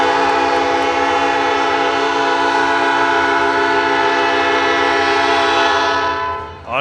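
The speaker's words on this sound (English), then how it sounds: "As the train rolls in." A train rolls in beside a Legion baseball field during a game, sounding one long, loud, steady horn blast that holds for several seconds before fading at the end.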